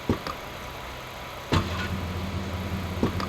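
A car engine in GTA Vice City, a steady mid-pitched hum with a few sharp clicks and knocks, played alone and fairly close with no voices.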